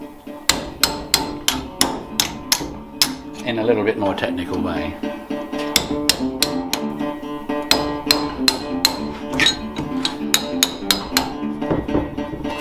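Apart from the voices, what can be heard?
hammering guitar metal top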